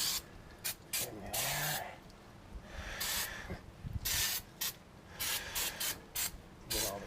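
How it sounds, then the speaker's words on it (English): Brake cleaner is sprayed onto a heavy-duty brake rotor in repeated hissing bursts, some long and some short, close and loud. A brief spoken remark comes in between the sprays. "Brake clean this down."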